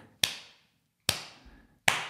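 Three sharp, isolated hand claps spaced under a second apart, mimicking parliamentary applause in the Bundestag; close, crisp and dry, with silence between each clap.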